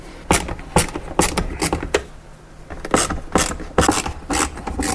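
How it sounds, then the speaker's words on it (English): A ratcheting Phillips screwdriver backs screws out of a light housing, giving repeated bursts of sharp clicking in quick rhythmic runs, close and loud with short pauses between strokes. "you're going to take a Phillips screwdriver and you're going to go to these screw locations here"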